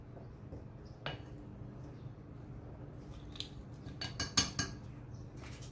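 Chicken wing seasoning and baking powder being mixed in a bowl: quiet scraping and light clinks of a utensil against the bowl, with a few sharper taps near the end, over a low steady background hum.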